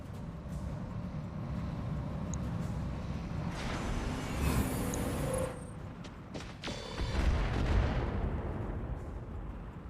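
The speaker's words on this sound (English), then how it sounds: "Those mortars do give me a fright." Mortar fire in the BattleTech mod Roguetech, heavy distant booms and mechanical rumbling rolling under steady battle noise, with a couple of louder swells midway and near the end.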